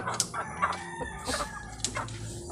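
Darag native chickens cluck around a rural farmyard while a rooster crows in short bursts. The calls come close and overlapping over a low background murmur.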